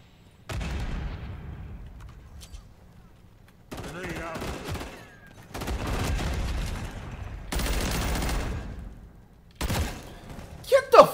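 Video game gunfire comes in several long, dense bursts of rapid shots with thumping low booms, separated by short gaps, and a voice shouts briefly near the end.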